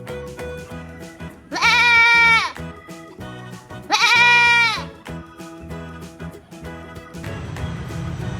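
A toy sheep gives two loud electronic bleats, each lasting about a second, a couple of seconds apart, over background music.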